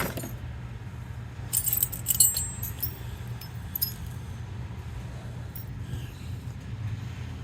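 Loose metal bolts and screws rattle and clink as a hand rummages through them, with bright jingling bursts early on and quieter scattered clinks over a low background hum.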